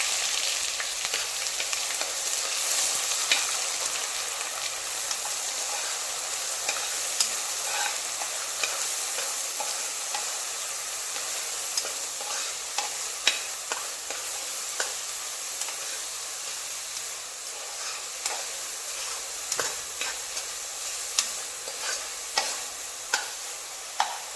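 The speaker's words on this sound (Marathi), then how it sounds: "आता हा व्यवस्थित मिक्स करून घ्यायचा तेलाची फ्लेम गॅसची फ्लेम थोडी कमी ठेवायची तेल तापलं आहे" Masala for a goat head curry fries and is stirred in hot oil over a lowered gas flame, giving a steady close sizzle with frequent scraping stir clicks and taps throughout.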